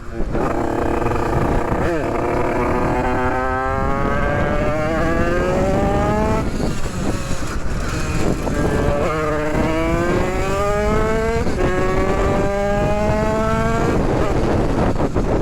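A buzzy two-stroke 50cc motorcycle engine, bored to 100cc, revs up and down repeatedly, rising in pitch with each gear, loud and close throughout, with people talking over it.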